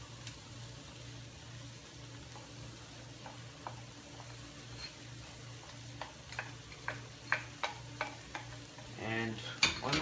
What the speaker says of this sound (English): Now we're gonna add all this garlic, the rest of our garlic,